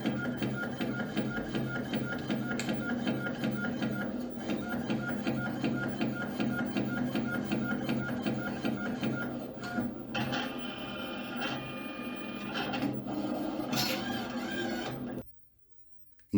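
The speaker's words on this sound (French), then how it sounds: "Vous imprimez au minimum 2 étiquettes, et là, vous n'avez plus qu'à cliquer sur Imprimer." An LX910e label printer runs steadily for about fifteen seconds, a rhythmic mechanical chatter with shifting tones near the end, then stops abruptly into silence.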